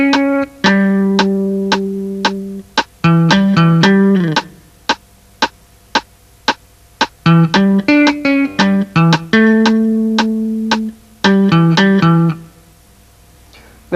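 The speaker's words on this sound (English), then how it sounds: "In the right hand, I'm going to play the melody" Melody tapped with the right hand on a bass guitar, clear ringing notes in short phrases with brief gaps and steady clicks between, loud and close with no talk.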